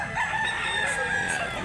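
Roosters crow at an outdoor rooster sale in Mantalungon, Barili, Cebu, with a short, fairly close crowing call over a background of farmyard noise.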